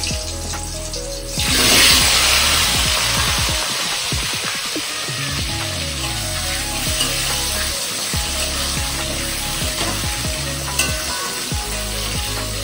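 Bananas and potatoes fry in leftover fish oil in a pan, giving a continuous sizzle with crackling pops and occasional stirring scrapes. It is close and steady, with no voices.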